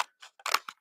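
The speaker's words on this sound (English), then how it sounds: "I am just going to cut this down" Paper trimmed for a handmade craft card gives a few short, crisp snips in quick succession, close and fairly quiet, with no talking.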